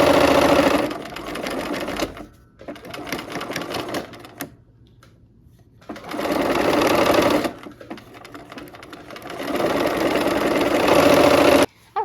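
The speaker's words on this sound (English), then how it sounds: "let's go ahead and sew this seam" A sewing machine stitches a quilt seam in loud, fast-whirring bursts, stopping and starting several times with quieter pauses between runs, heard alone without talk.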